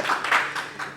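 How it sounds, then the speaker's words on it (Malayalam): Audience clapping at a Malayalam movie press meet for the film Bad Boys, a short, light patter of hand claps from a small crowd, somewhat soft and roomy, lasting about a second. "ഇതൊക്കെ കൈയടിക്കാം."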